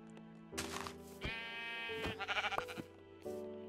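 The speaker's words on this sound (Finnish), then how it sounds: "Toinen lammas tapettu." Minecraft sheep bleating in a series of close, wavering cries, some long and some in short quick pulses, standing alone over a quiet game background.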